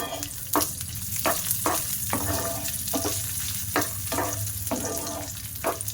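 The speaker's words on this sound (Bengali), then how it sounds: "ওর মধ্যে এবার কাজু বাদাম আর কিশমিশ ভাজা করে নেব।" Cashew nuts and raisins fry in ghee in a frying pan for jorda semai, a steady close sizzle broken by repeated spoon-scraping stirs at an uneven rhythm, with no talking.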